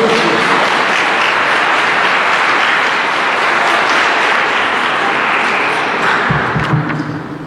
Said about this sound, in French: Bravo les amis, on vous applaudit.